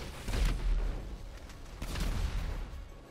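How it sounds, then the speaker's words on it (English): Missiles launched in GTA V Online, a run of heavy booming blasts with thumping low-end bursts, two loud clusters of rumbling shots close together and no talking. "Just gonna keep shooting missiles up there."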